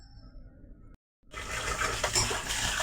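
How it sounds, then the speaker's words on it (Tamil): Water gushes into a container over raw rice, urad dal and fenugreek seeds being washed for appam batter. A brief quiet spell follows a low kitchen hum, then a close, steady rushing pour takes over. "தண்ணி ஊற்றி நல்லா கழுவிட்டு"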